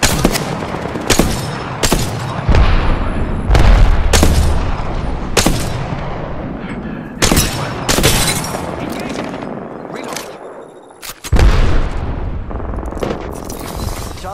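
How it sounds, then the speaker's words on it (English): A video game firefight bursts with repeated gunfire volleys and heavy grenade blasts, loud and close in sharp irregular bangs, with voice callouts spoken between them. "Frag out! Grenade out!"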